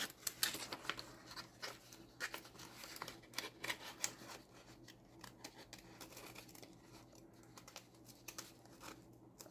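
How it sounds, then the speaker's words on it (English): Scissors cutting paper for a glue book craft, with repeated snips and paper crinkles in irregular bursts, close and fairly quiet, busiest at the start and thinning out toward the end. "Turn the paper, Stephanie, not the scissors"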